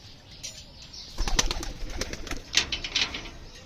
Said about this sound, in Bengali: এখানে পাক্কারা কবুতর আছে কিছু